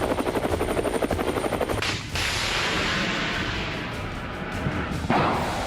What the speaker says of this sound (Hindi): Z-10 हल्के वजन का लड़ाकू हेलीकॉप्टर है, जिसे चीन की सेना पहले से ही इस्तेमाल करती रही है।